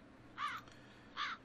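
Two harsh crow caws from the point-and-click adventure The Dark Eye: Chains of Satinav, each short and bright, separated by a pause, set against a quiet ambient background with no talking.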